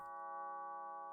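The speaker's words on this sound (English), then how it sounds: "The doorbell goes off again." Doorbell in a visual novel game, a single clean electronic chime tone held briefly and alone, fairly soft.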